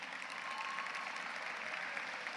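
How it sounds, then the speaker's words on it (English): Graduating seniors at a large high school graduation ceremony applaud themselves, a faint, distant, even wash of clapping from a big crowd heard throughout. "you can give yourself applause for that"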